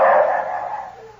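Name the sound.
dogs barking, sound effect in old-time radio drama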